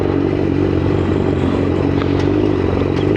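A motorcycle rides through Birmingham city centre, its engine a steady loud drone with road rumble and light clatter, heard close from the bike itself.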